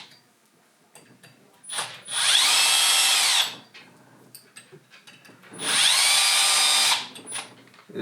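Power drill spinning out bolts on an eRacing Lab RS Ultimate Gen 2 racing wheel servo: two loud whirring bursts of about a second each, separated by quieter clicks and handling noises.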